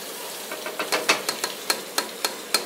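Stirring risotto in a pan, a wooden-sounding series of regular knocks and scrapes against the pan, about one every quarter second over a faint simmer.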